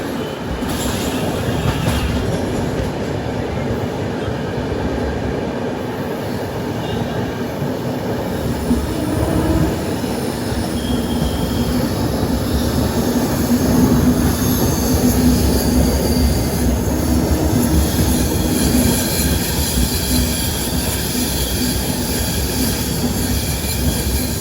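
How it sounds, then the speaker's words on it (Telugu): The Tirumala Express from Visakhapatnam to Kadapa rolls slowly beneath a road-cum-rail bridge, heard from inside a general coach as a steady rumble of wheels with persistent squealing and clattering that swells midway. "ఏమైందో చాలా స్లోగా షంట్ అవుతుంది మరి బండి."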